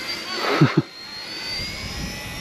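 An ERA UH-1 radio-controlled model helicopter flies nearby, its steady rotor and motor whine running through the whole stretch, with two brief thumps early on.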